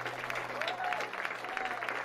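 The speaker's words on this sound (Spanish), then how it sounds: "Un fuerte aplauso." A church congregation claps loudly during a service, a steady wash of applause across the short moment while a voice carries faintly over it.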